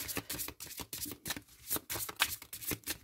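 Tarot cards are shuffled before a reading, giving a quick run of soft, rapid riffling and flicking bursts. The sound is close and fairly quiet, with no talk.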